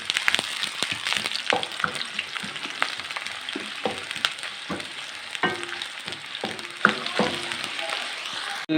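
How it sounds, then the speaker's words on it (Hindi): Onion sizzles and fries steadily in hot ghee left over from browning minced meat, with occasional stirring clinks and scrapes against the pan throughout, no talking. "जिस घी में मैंने कीमे को फ्राई किया है नाज़रीन, उसी घी में अब हम डालेंगे प्याज 1 अदद"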